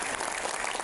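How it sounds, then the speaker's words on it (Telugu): An audience at a birthday celebration claps together in a brief burst of dense, even applause, close and steady for under a second. "మీరందరూ ఏకీభవిస్తే ఒకసారి గట్టిగా చప్పట్లు కొట్టాలి."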